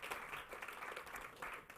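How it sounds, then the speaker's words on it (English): Audience applause at an evening innovation competition pitch showcase, a steady, fairly faint wash of clapping lasting a couple of seconds without talk. "please give her a round of applause."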